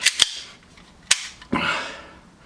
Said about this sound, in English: All right, we're gonna shoot one more time for you guys.